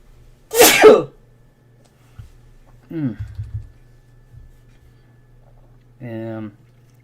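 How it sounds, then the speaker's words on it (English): A single loud, sharp sneeze bursts out near the microphone, followed by brief quiet talk and a faint hum. "Oh, I'm gonna sneeze"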